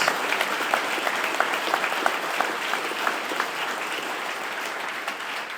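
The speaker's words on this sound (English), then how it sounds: "just another round of applause for Sneeko and for everybody that stepped up" A rally crowd bursts into sustained applause, dense clapping holding at a steady, fairly loud level throughout with scattered sharper claps standing out, and no voices on top.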